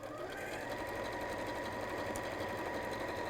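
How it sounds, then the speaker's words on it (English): A domestic sewing machine runs a steady, continuous stitching drone close by, sewing gathering rows near the edge of fabric for a panel tee or pleated tote, with no pauses and no voices. "I'm just going to sew quite close to the edge."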